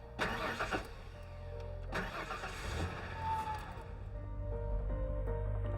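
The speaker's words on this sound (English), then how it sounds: "and then I'm gonna bump the ignition" A 1991 Ford Ranger engine cranks in short bursts as the ignition is bumped, two clear starter pulses followed by a low, steady mechanical rumble, close by with no talking.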